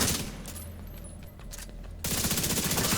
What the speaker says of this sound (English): Go for the body shots.